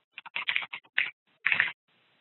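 Bursts of rapid key clatter from a computer keyboard, quick clustered taps in three short runs with brief pauses between, close and fairly quiet with no talking.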